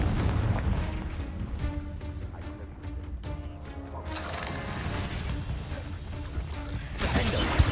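Confringo fire-blast spells go off in Hogwarts Legacy, rumbling booms and bursts of crackling blast noise recurring over busy game sound, loudest near the end.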